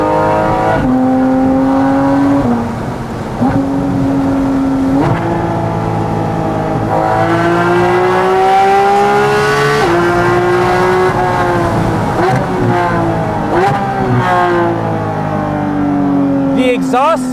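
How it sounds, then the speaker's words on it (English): A Porsche Cayman GT4 RS fitted with a Soul Performance exhaust revs and pulls hard, its loud, rising-and-falling engine note sweeping up through repeated gear changes, heard close from inside the car. "The exhaust sounds like it's tearing a hole in the atmosphere."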